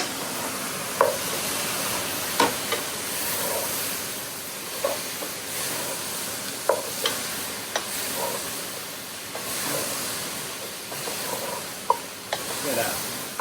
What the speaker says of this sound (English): And we're going to mix that up.